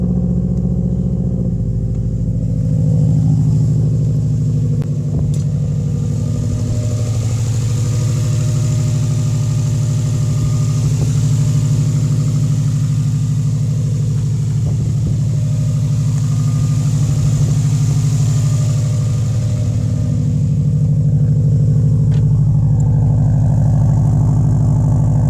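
A 2005 Subaru WRX engine idles steadily and loudly close by with a deep, constant rumble that barely changes for the whole stretch, alone with no talk.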